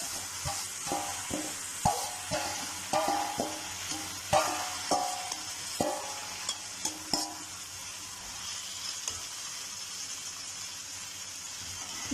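Fried mixed vegetables, including capsicum, are stirred with spices in a pan. For about seven seconds a utensil scrapes and taps in a quick rhythm. After that only a soft, even sizzle remains.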